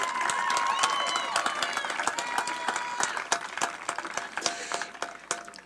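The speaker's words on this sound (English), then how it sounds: "I want to give them a big round of applause for what they do for our football team." Audience at a high school football champions celebration ceremony breaks into warm applause, dense clapping that thins into scattered individual claps toward the end, with some chatter underneath.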